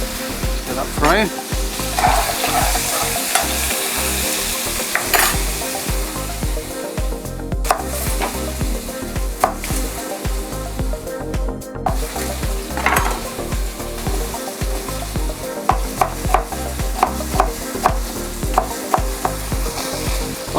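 Chicken pieces fry in a pan with a steady, loud sizzle, joined by repeated scraping and stirring knocks of a utensil throughout.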